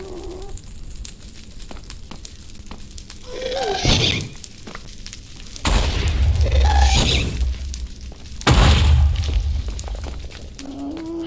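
In a Minecraft game, a ghast shoots fireballs. Three heavy booming explosions land a second or two apart, each a loud blast with a rumbling low end that trails off, over a steady background hum.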